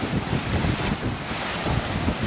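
A sailboat making about 9 knots in a 19-20 knot wind on a nearly flat sea between Antigua and Guadeloupe, heard as steady, loud wind buffeting with a rushing wash of water and no voices.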